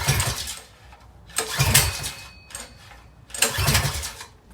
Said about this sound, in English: Alright, we're gonna start it on choke.